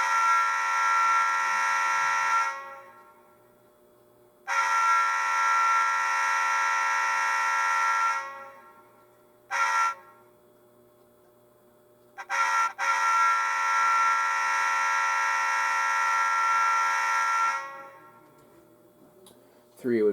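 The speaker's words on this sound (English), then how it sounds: "2 is the not the bell, the horn." A horn blares in long sustained blasts separated by silences, with a couple of short toots in between, loud and steady.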